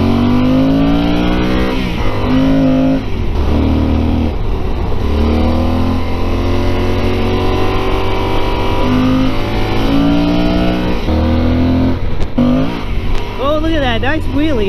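A Honda CTX700 motorcycle's inline-two engine roars and revs loudly with a throaty intake growl, pitch rising and falling through gear changes, with talk mixed in.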